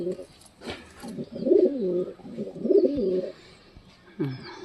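Giribaz pigeons cooing at their nest, a run of soft, throaty, rolling coos that rise and fall in close-up, repeating with short pauses, and a faint voice may sit underneath.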